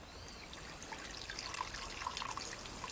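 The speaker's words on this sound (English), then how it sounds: "Actually, I'm going to add all the water." Water poured into a cooking pan, a steady soft trickling and splashing that stays even throughout, moderately quiet with no talk.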